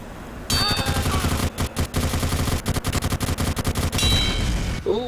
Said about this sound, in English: you landed the rockets through the boxes